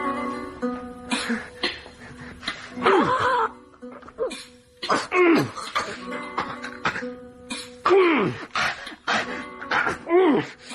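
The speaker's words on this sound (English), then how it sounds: "And I did say I'd get rid of that cough for you" A person coughs repeatedly in harsh, wheezing fits with groaning, moaning breaths between them, close and loud, set in an old radio drama.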